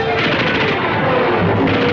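Gunfire from a war drama battle scene, a steady dense stream of bursts and booms throughout, loud and close, with a voice faintly mixed in.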